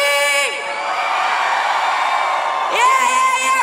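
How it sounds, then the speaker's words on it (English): A large festival concert crowd in São Paulo screams in a loud, sustained roar, with high-pitched voices layered over one another, briefly dipping and then surging again. "So when I say scream, you scream with all your heart."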